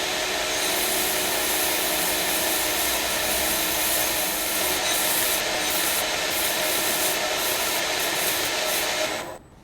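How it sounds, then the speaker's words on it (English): A grinder strips scale from Damascus steel with a loud, continuous abrasive rasp that holds steady throughout and cuts off sharply at the end. "So I need to take that scale off on the old grinder"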